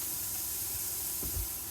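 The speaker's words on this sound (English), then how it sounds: "that'll trap the steam" Steam hissing steadily inside a covered pan of chicken fajitas, a constant broadband hiss with a few low sizzling thumps near the end, heard alone without talk.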